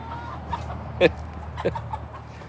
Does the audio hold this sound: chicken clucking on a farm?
yes